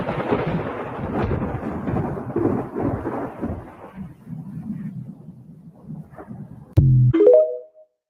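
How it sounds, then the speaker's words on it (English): Thunder from a lightning storm rolls as a long, deep rumble that slowly fades, then a sudden loud crack with a brief tonal burst at the end. "Lightning storm"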